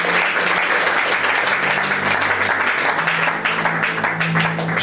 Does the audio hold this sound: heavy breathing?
no